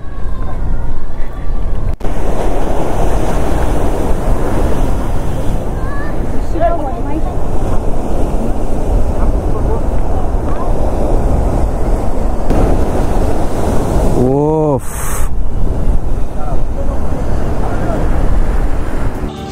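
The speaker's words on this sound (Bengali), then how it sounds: "সমুদ্রের জাস্ট গর্জনটা একবার শোনো" Sea waves roar at Tajpur Sea Beach in a continuous, loud wash of surf mixed with wind buffeting, with a brief whistling chirp near the end.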